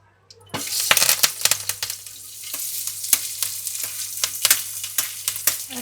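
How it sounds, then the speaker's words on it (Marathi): Hot oil crackles on a heated tawa after a quiet start, loud close sizzling with sharp spitting pops and occasional clinks, no voices. "तवा तापल्यावर आपण तेल टाकूया"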